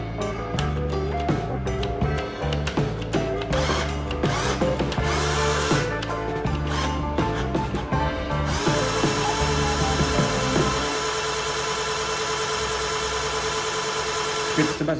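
A budget cordless power drill, one of several around 500 thousand rupiah being compared in a test, bores into material with a loud, close motor whine. Bursts of drilling come first, then a long steady high-speed run.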